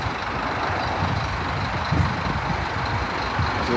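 A truck backs up in Australian street traffic, its reversing beeps faint and repeating under a constant wash of road noise from passing vehicles.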